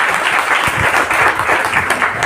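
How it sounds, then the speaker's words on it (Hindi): An audience at a seminar claps loudly and steadily, a dense close burst of many hands lasting a couple of seconds with no talk over it. "ताली बजा दीजिए, आप समझ रहे हैं बात।"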